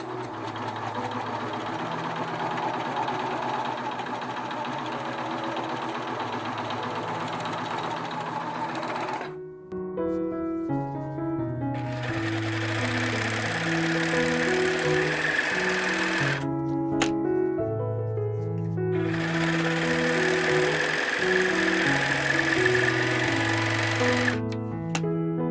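Serger sewing machine stitching along a fabric edge while making a cell phone carrier necklace, running in a steady loud mechanical whir across two long bursts with a brief pause between, no talking.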